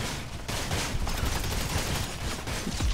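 Rocket launcher fire in GTA 5, a dense, continuous barrage of loud explosive blasts and bursts with no letup, filling the clip from start to finish with heavy booming low end.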